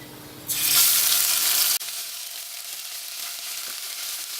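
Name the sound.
ginger garlic paste frying and being stirred in oil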